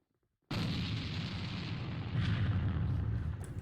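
Grenade blast in the shooter game A.V.A during a tournament match, a sudden loud burst followed by a sustained rumbling roar that fades slowly over several seconds.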